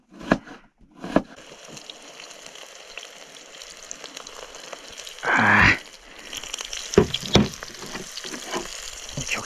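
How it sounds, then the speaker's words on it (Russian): Chopped onion fries in a pan deep in the taiga, giving a low background sizzle broken by clatters of stirring and one loud burst of spitting crackle near the middle. "Теперь режем лучок, обжариваем его и добавляем в рыбу."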